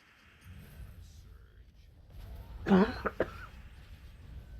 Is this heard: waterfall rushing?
no